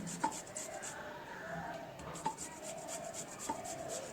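Radish rubbed against the fine side of a hand grater, a close, steady rasping scrape with a few sharper strokes spaced about a second apart, quiet and without talk.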